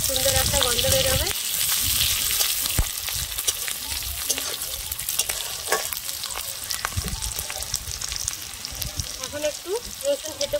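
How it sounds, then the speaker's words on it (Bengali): Chopped onion, green chilli, bay leaf, whole garam masala and panch phoron fry in hot oil with a loud, continuous close sizzle, broken by the clatter of stirring while someone talks over it. "পেঁয়াজটার সাথে এগুলো ভাজা ভাজা হয়ে যাবে"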